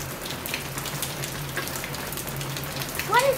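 Light rain patters steadily on a surface, soft and continuous, with a faint low hum underneath.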